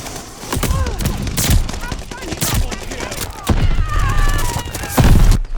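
Gunfire in Call of Duty Vanguard, sniper and rifle shots such as the M1 Garand or G-43, popping in loud bursts through a multiplayer hardpoint match, with talk over much of it.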